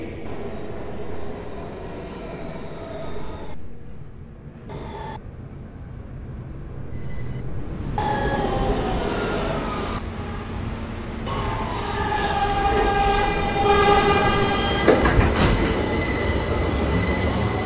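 New York subway F local train departing and moving along the track, continuous rumbling with shrill wheel squeals and whining tones that grow louder and denser toward the end, with a few brief quieter dips.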